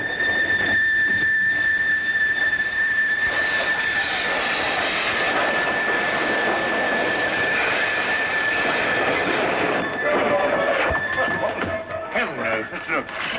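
A steady loud rumbling roar with a high whining squeal runs throughout from a train moving along rails in a 1954 TV series, with voices faintly underneath.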